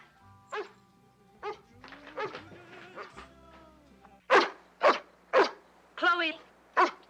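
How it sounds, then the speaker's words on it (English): A pet dog named Chloe barks five times in a quick series, loud and close, after a stretch of quiet talk and clatter in a house. "Whose dog is that?"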